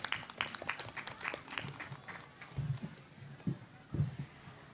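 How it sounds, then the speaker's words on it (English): Scattered applause from an audience at a high school English debate final, with sparse claps trailing off into murmured voices and movement nearby. "Give applause to both teams for their excellent"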